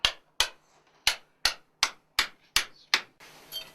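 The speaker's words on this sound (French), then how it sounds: "Tu passes ton marteau." A hammer strikes eight sharp, separate taps at an uneven pace during an archaeological dig, each crack close and clear with quiet gaps between, followed by a soft scraping rustle.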